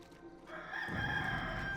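A rooster crows loudly in the video game Warcraft III: Reign of Chaos, a sustained, bright call over steady background noise, heard close and alone without talk.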